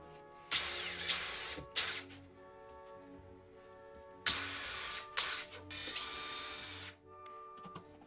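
A power drill bores holes through a wooden cajón lid into the box in two bursts, each a high whining spin-up with short pauses, the motor revving and stopping up close.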